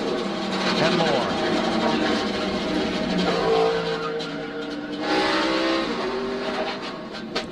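NASCAR Cup race cars roar and scream past during a multi-car crash, engines revving and fading with tire squeal, under excited commentary.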